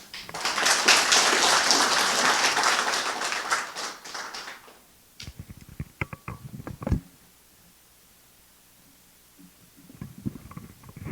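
A church congregation breaks into dense, loud applause for several seconds, which fades to scattered claps and taps followed by near quiet, with a brief patter of clapping returning at the end.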